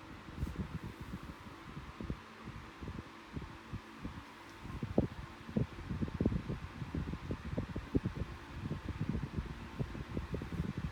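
A Status 12-inch desk fan runs on its low setting, a quiet, steady hum with soft rhythmic low thumping, heard alone and close by.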